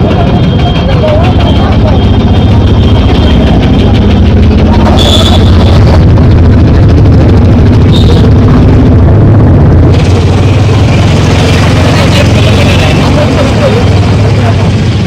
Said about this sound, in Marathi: ही रिक्षा आहे, रिक्षा चालली.